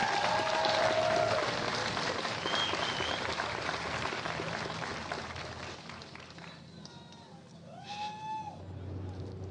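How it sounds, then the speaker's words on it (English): A graduation audience applauds in a large hall, a broad steady wash of clapping that slowly thins out, with a voice speaking briefly at the start and again near the end. "let's give another round of applause to our parents,"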